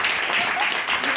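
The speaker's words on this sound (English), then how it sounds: "So can we just clap it up a little bit more for her?" Open mic night audience at a college event applauding steadily, a dense wash of claps filling the whole moment with no pause, some voices mixed faintly into the noise.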